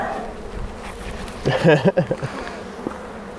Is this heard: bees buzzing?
yes